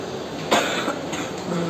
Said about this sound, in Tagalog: Ubo-ubo.